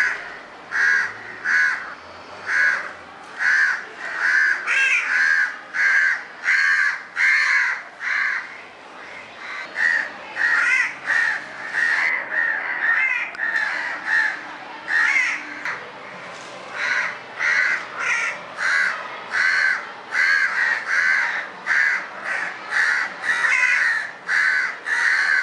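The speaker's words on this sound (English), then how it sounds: "Parent crows flew over the baby" Crows cawing over a young crow outdoors, a steady run of loud, closely spaced harsh caws repeating throughout with no talk.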